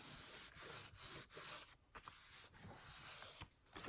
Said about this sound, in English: I'm trying to rub it with my fingers because, you know, sometimes you can just rub it off and it will roll up in little glue balls.